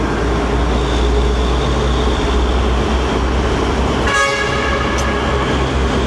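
Loud, continuous roar of traffic inside a road tunnel, with a sharp vehicle horn blast near the end that rings and echoes off the walls.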